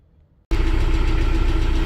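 A tractor engine in heavy machinery starts abruptly after a moment of quiet, then runs at a steady loud, close idle with a low rumbling throb and a constant hum.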